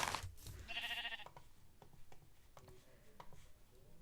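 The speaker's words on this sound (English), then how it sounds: "Hello, sheep." Sheep in a survival video game giving a nasal bleat near the start, followed by soft clicking and ticking sounds at a fairly low level.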